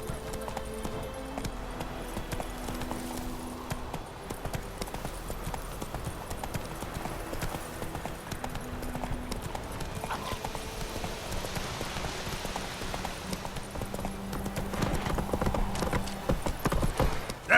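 Roach the horse trots in The Witcher 3, steady clip-clop hoofbeats running throughout with a rhythmic gait, under ambient game sound and a voice speaking briefly.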